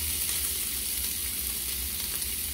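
Beef frying in lard as onion goes into the pan: a quiet, steady sizzle heard close up with faint bubbling, no talking.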